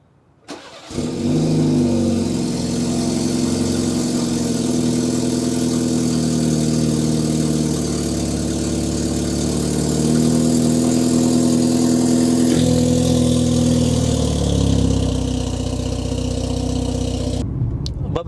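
A BMW G20 330i with a VRSF downpipe starts up and settles into a steady, throaty idle, heard up close; the tone rises briefly midway and holds before cutting off at the end.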